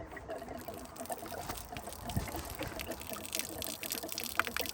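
Sediment-filled water dumped out of a removed hot water heater in a van plumbing job, a steady splashing pour with gurgling trickles running continuously throughout.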